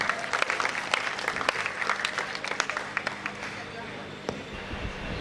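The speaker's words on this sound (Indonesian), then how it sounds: "Kita berikan tepuk tangan yang paling meriah." Audience applause at the Celebes Film Festival 2019 awards ceremony, a sustained crowd clapping that fades toward the end, with a voice over it.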